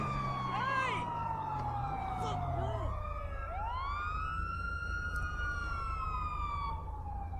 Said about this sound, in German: Wie mache ich denn die Tatütata aus?